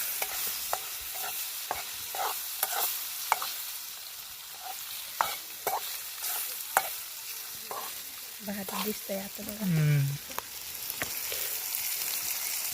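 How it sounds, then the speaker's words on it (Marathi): Murrel fish being fried and stirred through masala, with repeated scraping strokes and a steady sizzle at close range; around the ninth second a brief louder burst of noise rises over the cooking. "बघा मरळ आता घातले मसाल्यांमध्ये मिक्स केल्यात आता बघा आता शिजायला सुद्धा लागले"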